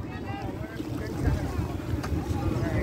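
A boat moves across the flooded waters of Chalan Beel, with a steady low rumble of motor and water, plus wind buffeting the microphone throughout. Voices murmur faintly in the background.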